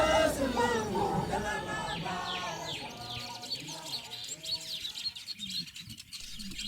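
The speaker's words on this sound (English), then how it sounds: "surrounded by hard-working weaver birds and their new nests" Weaver birds chattering and chirping around their new nests in the Maasai Mara, a busy overlapping twitter of many calls that thins out toward the end.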